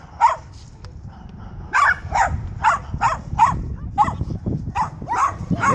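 A small dog barks repeatedly in short, sharp yips, roughly a dozen in a quick irregular series, fairly close, over a low background rumble, with no clear talk.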